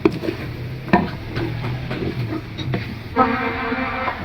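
Spatula scraping and knocking as eggs are stirred into potatoes in a pan for aloo anda bhujia, a series of soft clattering strokes with faint sizzling, heard up close and at low volume.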